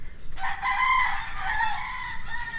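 A rooster crows once in a long, loud call, fairly close, over faint background noise.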